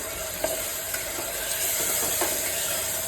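Spices frying in a pan for restaurant-style egg biryani, a steady close sizzle with faint stirring clicks and scrapes, no voices.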